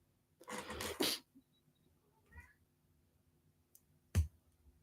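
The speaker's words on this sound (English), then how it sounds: "my cat that is currently meowing and scratching on my door to come in is named Maisie." A house cat scratches and meows at a door: a scratchy burst, then a faint meow and a sharp knock, all soft and sparse against near silence.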